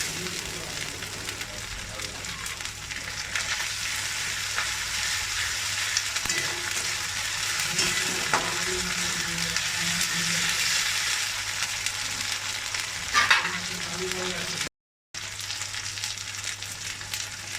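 Ginger paste sizzles and fries steadily in hot oil while being stirred for hilsa fish khichuri, a continuous close hiss with a voice faintly audible underneath.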